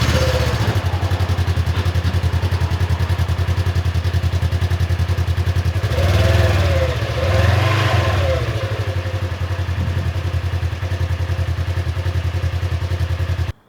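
A 2024 Polaris RZR XP 1000 side-by-side's exhaust rumbles steadily while riding down a trail, a deep, even drone with a couple of swelling surges midway, loud and continuous until it cuts off at the end.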